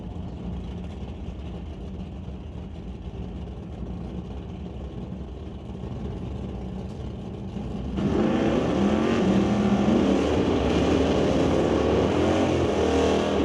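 Old Car Centre hot rod drag cars roar into the water box for a burnout, engines idling low and steady at first, then surging into a loud, sustained revving howl about two-thirds of the way through.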